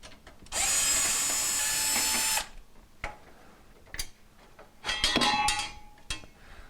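A power screwdriver spins out trim screws on a KitchenAid wall oven: a loud two-second whir, then clicks and handling knocks, and a second shorter whir near the end.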